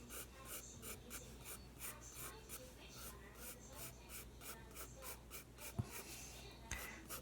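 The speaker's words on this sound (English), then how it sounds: "Just using an ordinary pencil." Ordinary pencil drawing an apple on paper, a faint rhythmic scratching of repeated short strokes with a couple of soft bumps, heard close and quiet.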